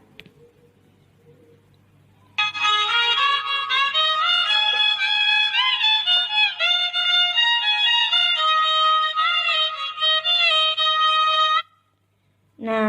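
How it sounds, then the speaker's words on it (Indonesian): A tehyan, the traditional Betawi bowed string instrument, plays a sustained, wavering melody with gliding bowed notes for about nine seconds after a quiet start, then stops abruptly. "Nah, ini suara alat musik tehyan."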